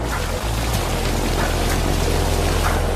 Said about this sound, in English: The water rack provides the equivalent of 20 centimeters per hour rainfall.